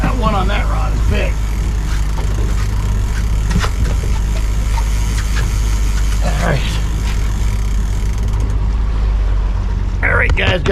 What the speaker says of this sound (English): I got the boat just in gear with one engine right now